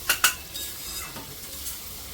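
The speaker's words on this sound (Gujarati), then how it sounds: "ફ્રેન્ડ્સ અહીંયા મસાલો એકદમ પરફેક્ટલી શેકાઈ ગયો છે" Chole masala spice mix roasting in oil in a pan for Amritsari chole, with two sharp stirring scrapes near the start, then a faint steady sizzle continuing on its own.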